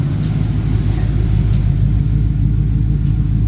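A 1955 Chevy truck engine runs steadily at idle, a loud, close, continuous low rumble with no voices.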